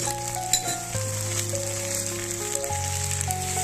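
Spice paste of ground masala mixed with water frying for egg masala, a soft steady sizzle in the pan with faint tonal background music, close and quiet with no talk.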